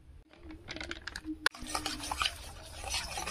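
A spoon stirs powdered milk into lightly warmed water, making a steady, soft scraping and swirling at close range. One sharp clink of metal on the vessel cuts through midway.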